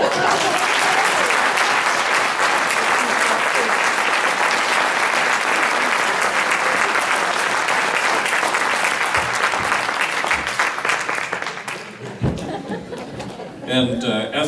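A Rotary club audience at an induction ceremony gives a long, loud, sustained round of applause for the outgoing club president, thinning out near the end with a few chuckles.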